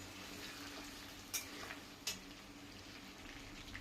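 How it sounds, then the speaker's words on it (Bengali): Chicken pieces fry in a pan for a homemade chicken masala, a quiet, steady sizzling hiss with two brief sharp pops partway through. "এই জন্য আমি চিকেনকে ফ্রাই করে নিচ্ছি।"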